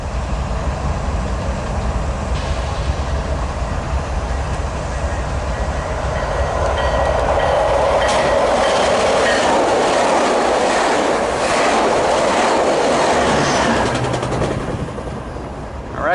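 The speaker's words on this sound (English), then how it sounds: "there goes Metrolink 618 to Oceanside" Metrolink commuter train 618, bound for Oceanside, rolls past Commerce at close range with a loud, sustained rumble, clattering wheels and faint squeals, fading slightly at the end.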